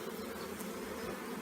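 A swarm of honeybees hums all around at close range, a continuous, dense, steady buzz with no talk over it.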